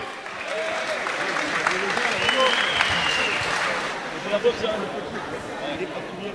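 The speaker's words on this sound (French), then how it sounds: "On applaudit bien fort Sidney Lisboa" Audience applause and crowd noise fill a combat-sports event hall after fighter Sidney Lisboa's victory at GFA Fight, a dense, steady ovation with a couple of louder bursts and faint talk underneath.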